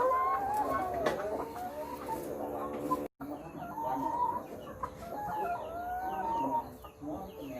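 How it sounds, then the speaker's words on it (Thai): Laying hens cluck and squawk continuously on the ground of a small home farm, several birds close by at once with overlapping calls and a brief gap midway. "ลักษณะของไก่พร้อมไข่นะครับ"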